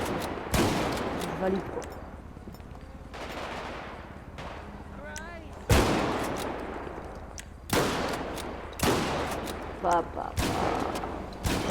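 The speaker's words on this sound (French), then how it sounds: "Le fusil à pompe qui est vraiment cool." A pump shotgun from a GTA 5 RP sound pack fires about half a dozen sharp, loud blasts at irregular intervals, each with a short decaying tail, while a voice speaks briefly between the shots.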